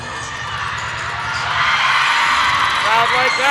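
Crowd cheering at the 2023 ECC cheerleading championship, a broad roar of many voices that swells louder midway and holds steady with shouts rising over it.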